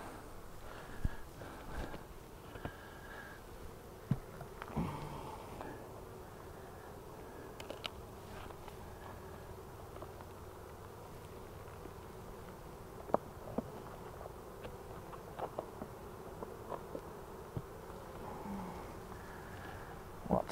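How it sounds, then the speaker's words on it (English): Bees in a hive drawing comb during queen rearing give off a faint, low, steady buzz, with scattered soft knocks and clicks over the hum. "Lots of bees."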